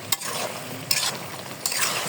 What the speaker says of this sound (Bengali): এখন আমি পুঁটি মাছ ভাজাগুলো দিয়ে দেবো।